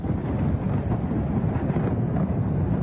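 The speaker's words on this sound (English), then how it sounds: "Explosion here, then we hear it." A distant explosion rolls out like thunder, a continuous low rumble that holds steady at fairly high level for about three seconds with no voices over it.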